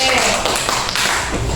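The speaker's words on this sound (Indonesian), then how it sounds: "Tepuk tangan dulu buat pertanyaan temannya itu." Primary school students in a classroom clap for a classmate's question, a short burst of scattered, close clapping that fades after about a second.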